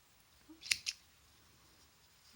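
Scissors snip through loops of material in two quick, quiet closes, a soft crisp click each time against a faint room background.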